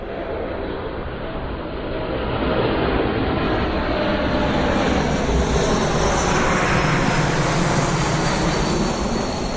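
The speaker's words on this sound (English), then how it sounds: "airplane" A fixed-wing airplane passes overhead above a July vegetable garden, a loud, continuous engine roar that swells after a couple of seconds and holds steady, with no clear speech over it.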